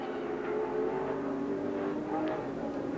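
A Holden Torana sports sedan, driven hard at Baskerville in a 1978 sports sedan championship race, holds a steady engine drone at sustained high revs, with a faint second car audible.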